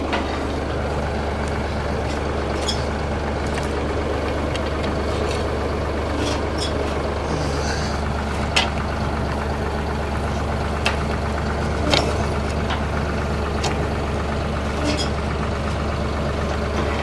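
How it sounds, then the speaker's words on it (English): A Massey Ferguson 4707 tractor engine drones steadily under load while pulling a homemade wire roller on a farm. The low, continuous rumble is fairly close, with scattered faint clanks and higher noises over it and no talk. "go up in the tractor and drive forward"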